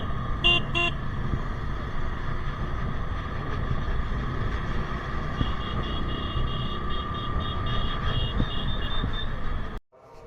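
A line of lorries rolls past on a rain-soaked highway, engines roaring loud and close with repeated horn toots, a longer honk in the middle stretch, before the sound drops off abruptly at the end.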